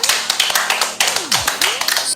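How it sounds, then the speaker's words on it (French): An audience claps in a rhythmic, brisk pattern at a French rap battle, sharp repeated hand claps close by, with a swooping electronic tone sliding through the middle. "on applaudit les gars"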